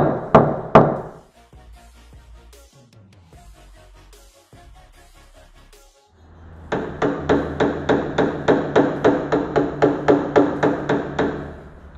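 A few sharp paintless dent repair hammer taps, then quiet, followed by a rapid steady series of about twenty metallic taps on a car body panel, close and crisp.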